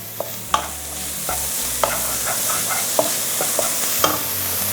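Chopped onion and crushed shallots frying in a pan, a steady hiss of sizzling oil with a few sharp clicks and scrapes of a stirring spoon, near and with no voices.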